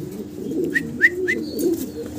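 Giant homer pigeons coo in a low, steady rumble that runs throughout, with a few brief higher chirps from other birds in the first half.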